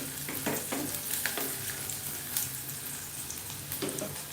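Onions sizzle and fry in a pan for a curry while a spoon stirs them, a steady close crackle broken by a few scraping stirring strokes, with no talk.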